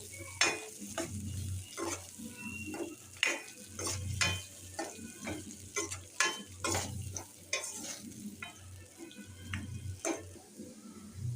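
Onions sautéing in a pan, with steady sizzling broken by repeated scraping stirs and clinks of the spoon against the metal, close and alone with no talk.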